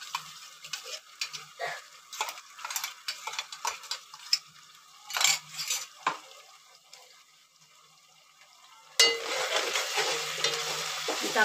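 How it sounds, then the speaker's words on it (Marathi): Ginger-garlic paste sautéed with fried onions in a pan for chicken curry, with a run of quick scraping stirs over a soft sizzle, then a pause and a louder, steady frying hiss near the end. "चांगलं हे करून घ्यायचं, परतून घ्यायची कांद्यासोबत."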